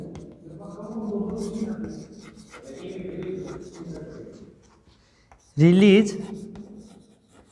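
Marker or chalk writing on a board during an anatomy lecture, soft rubbing strokes heard mostly beneath a man's steady speech, with a louder burst of voice near the end.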